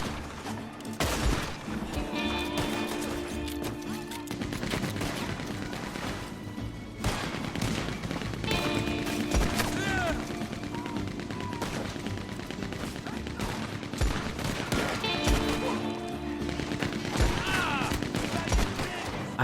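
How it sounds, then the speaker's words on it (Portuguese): Machine gun fire rattles out in Red Dead Online, coming from a gunman inside a shed, with dense rapid bursts and scattered single shots continuing loudly and without pause. "E ainda tem um maluco com uma metralhadora no galpão."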